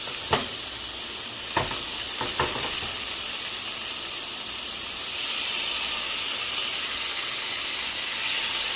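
Salmon fillets frying in a pan, a steady close sizzle and hiss, broken by a few sharp clicks of a utensil early on, with no voices.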